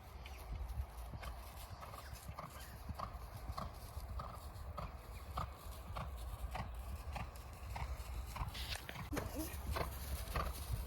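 A miniature Shetland pony canters, its hooves beating out a steady, close clip-clop rhythm that carries on throughout, with a voice speaking now and then over the hoof beats.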